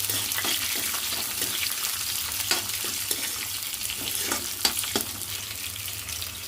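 White sesame seeds and chopped onion stirred in a hot pan, with a steady close sizzle under scattered scraping clicks of the spoon, no talking.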